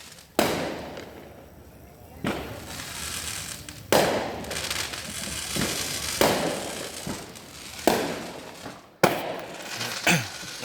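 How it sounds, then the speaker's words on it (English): Outdoor fireworks pop and bang irregularly, several loud close cracks with rumbling tails and smaller snaps between, over a constant background hum and some faint voices. "Can you hear the fireworks?"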